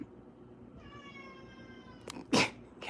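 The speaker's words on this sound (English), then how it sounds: "She cries. She doesn't meow, she cries." A pet cat named Weem lets out a drawn, whining cry rather than a short meow, a tonal wail lasting over a second, followed by a louder rustle or puff nearby in a quiet room late at night.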